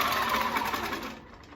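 A long arm quilting machine stitching a table runner, its fast steady motor whir and needle chatter running loud and close before quickly winding down and fading toward the end.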